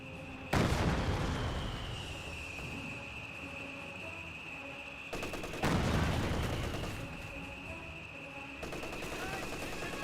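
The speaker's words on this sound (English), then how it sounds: "we've got a time barrage there trying to hit the bunker." Heavy artillery barrage pounding a bunker in the strategy game Company of Heroes 2, two big booming impacts with crackling gunfire trailing after each, a steady high whine running throughout and a commentator's voice underneath.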